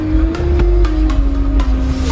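Slow, backed-up road traffic heard from inside a car: a steady engine hum and low rumble, broken by several brief whooshes of nearby vehicles going by.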